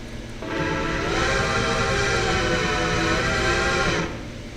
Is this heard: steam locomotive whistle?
yes